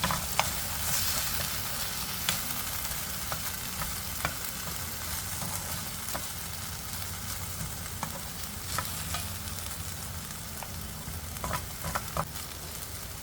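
Tomatoes sauté in a hot pan for poha upma, giving a continuous close sizzle broken by scattered spatula scrapes and clicks, with no voices.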